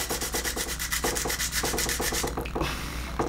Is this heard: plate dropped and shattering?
no